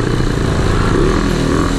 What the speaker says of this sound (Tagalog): Grabe kapalyado ng under na motor dito sa Baguio.